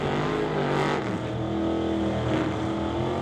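Drag race cars in the Pro Bracket class at an NHRA Summit ET Series bracket race, a loud, continuous engine roar with a sharp rise in revs, close and steady with no talk over it.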